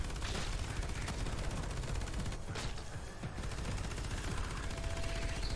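Rapid bursts of gunfire crackle over a loud, noisy mobile shooter game soundscape, Evolution 2: Battle for Utopia, with a few sharper shotgun blasts standing out amid constant clatter.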